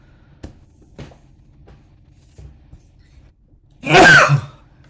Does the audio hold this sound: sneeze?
yes